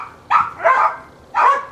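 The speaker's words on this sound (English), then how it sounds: "The neighbor's dog and the blue heeler and the chihuahua and the tweenie are all barking at something." Several dogs, a neighbor's dog, a blue heeler and a chihuahua, bark at a squirrel on a fence, three loud close barks in quick succession.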